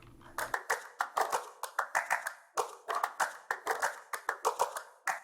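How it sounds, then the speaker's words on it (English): A sampled clap loop from the Cashmere pack, layered into a pop rock production, plays as a crisp, dry, rhythmic pattern of handclaps with steady pulses and brief gaps. "And then we threw in a clap loop from the Cashmere pack."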